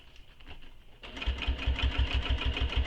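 A sewing machine top stitches a circular bag, starting after a brief quiet moment and then running in a steady, rapid, close stitching rhythm.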